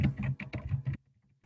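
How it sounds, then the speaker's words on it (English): A short run of quick, close keystrokes on a computer keyboard during an online webinar, ending abruptly in near silence after about a second. "I'm going to type in here"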